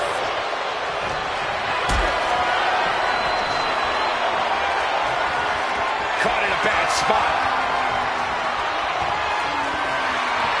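A dense arena crowd roars continuously in the WWE 2K wrestling video game, loud and steady throughout, with a few sharp ring impacts and a commentator speaking over it.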